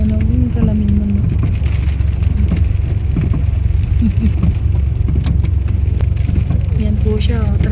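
Road traffic crawls along wet streets in foggy, rainy Baguio, a dense wash of engines and rain hiss with passing vehicles and brief horn-like tones, close and loud, with people talking over it.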